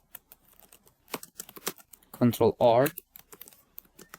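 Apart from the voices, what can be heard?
typing on a computer keyboard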